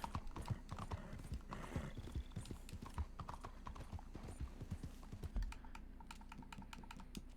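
Rhythmic clip-clop of horse hooves trots steadily throughout in Red Dead Redemption 2, crisp and close, with a faint electronic hum in the background and no talking.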